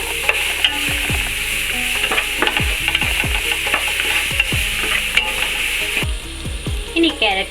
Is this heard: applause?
no